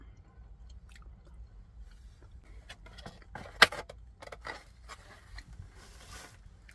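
Close, crunchy chewing of granola with irregular bites and soft crackles, no talking.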